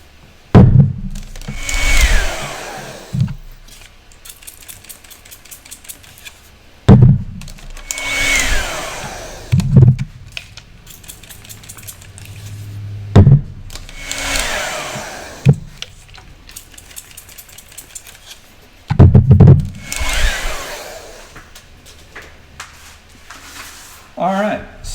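A hair dryer blows in repeated bursts, several seconds each, drying a wet painting, broken by pauses with clatter and handling noise, with talking between bursts.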